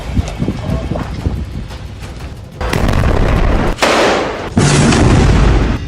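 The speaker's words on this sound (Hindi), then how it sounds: "हिजबुल्लाह ने इजरायल के ठिकानों पर 4 बुरकान मिसाइलें दागी" Burkan missiles fired by Hezbollah striking an Israeli military base, producing loud, sustained blasts and roaring rumble in several surges, the strongest arriving near the end with dense broadband noise.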